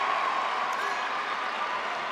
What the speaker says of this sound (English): wonderful to hear the applause in anticipation of this